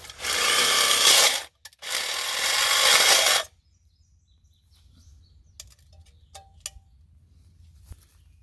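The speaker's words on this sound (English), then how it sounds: "When I'm pushing the hole saw in, I want to make sure that it's making really even contact all the way around so it doesn't grab and rip" A hole saw on a power drill cuts into wood in two loud, sustained grinding bursts, separated by a brief pause. Near-silence follows, with faint birdsong in the background.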